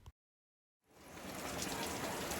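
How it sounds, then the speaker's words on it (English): Heavy rain pours down at a campsite near Silver Falls State Park in Oregon, a steady dense hiss that rises in after a brief silence and holds loud and even to the end. "it is pouring down"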